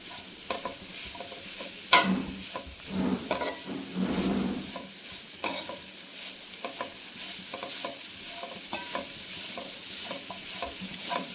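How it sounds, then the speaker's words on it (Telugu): Grated coconut fries in ghee in a pan while being stirred repeatedly, with scraping strokes over a continuous light sizzle and no voices. "నెయ్యి వేసుకుని నేతిలో కొబ్బరిని అయితే వేయించుకోవాలి"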